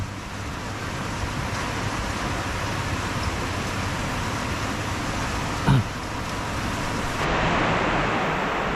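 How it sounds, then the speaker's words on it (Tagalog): Steady rain pours outdoors over land being cleared, a continuous even hiss that swells slightly toward the end, with one brief knock partway through. "Hindi pa rin tumitila yung ulan"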